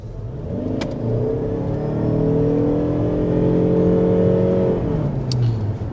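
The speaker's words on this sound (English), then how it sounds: "An example of a rolling start, and as you can tell from that acceleration" A 2025 Lexus RX plug-in hybrid with an eCVT and all-wheel drive accelerates from a rolling start. Its smooth motor and engine whine climbs steadily in pitch without gear shifts, heard loud and close from inside.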